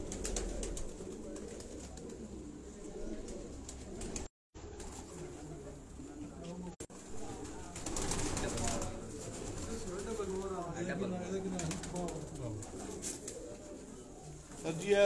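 A racing pigeon named Sultan coos repeatedly on a rooftop, soft throaty calls running through the whole stretch, with people talking nearby over it.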